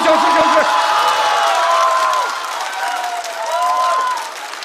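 A studio audience at a stand-up comedy show applauds and cheers for comedian Wang Mian. The clapping is loud and sustained and lasts the whole stretch. A host's sung or spoken voice briefly rides over the start.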